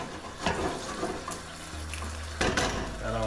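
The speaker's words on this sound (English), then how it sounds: "I'm just going to add some water for tomatoes to get cooked" Water pours into a pan of fish curry on the stove with a tomato base, splashing and sizzling faintly at close range with a brief clatter, no speech.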